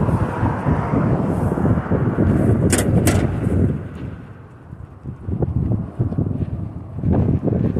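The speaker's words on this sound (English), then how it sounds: "Wind is blowing in my face on the way back." Steady wind roars across the microphone during a bike ride to the store, a constant low buffeting rush that dips briefly midway, then picks back up, with no voices.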